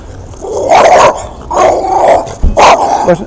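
A dog barks in three loud, close bursts of a few barks each, with brief gaps between them, on the seaside promenade at Tramore, Ireland.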